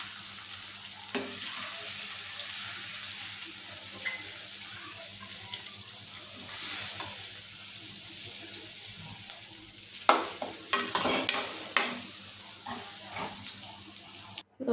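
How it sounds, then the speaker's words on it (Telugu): Ingredients for tamarind coconut chutney fry in a pan with a soft continuous sizzle, joined by intermittent scraping stirs and clinks that grow more frequent toward the end. "ఇలా బాగా వేయించండి"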